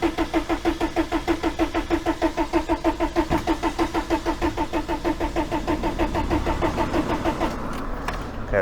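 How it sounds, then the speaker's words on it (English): A starter motor on a VW T3 TDI with a newly installed fuel pump cranks the engine in a steady, rapid rhythmic churn for about six seconds, then the pulsing blurs into a rougher continuous whir, loud and close with no talk. "that starting motor's getting hot and bothered at this stage"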